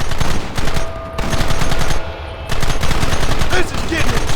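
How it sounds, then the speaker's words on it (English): Gunfire rattles through a Wild West shootout in Red Dead Redemption, with loud, close bursts of rapid shots and scattered cracks continuing steadily, no voices heard. "Targets on the horizon! Fire at will!"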